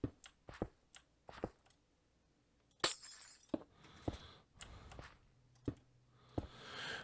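Glass panes being placed one by one in Minecraft, a series of crisp, quiet clinks and shatter-like taps at irregular intervals with silence between them, no talking.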